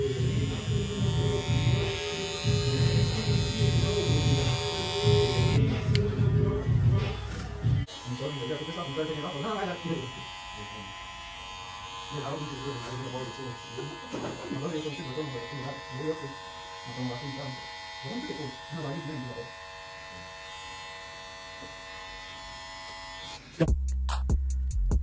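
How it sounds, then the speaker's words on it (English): A Slimline Pro GTX hair trimmer buzzes steadily near the start, then gives way to talk over music, with a faint hum persisting underneath. "So you heard what the trimmers sound like"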